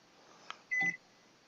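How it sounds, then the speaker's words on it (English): A microwave oven in a home workshop gives a single short electronic beep, clear but not loud, with a fainter click just before it in an otherwise quiet room. "I hear the beep."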